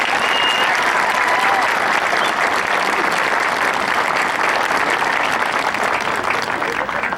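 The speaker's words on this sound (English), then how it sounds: "Please give them a round of applause." A high school graduation audience applauds in a large venue, dense sustained clapping and crowd noise filling the whole span at an even level.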